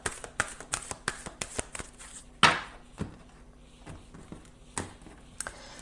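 A tarot card laid down over another card, one crisp slap among a series of light papery card flicks and handling sounds at close range, with no talk.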